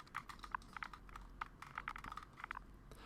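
A computer keyboard being typed on to enter a name, producing a quick, irregular run of light key clicks, close but faint, with no talking.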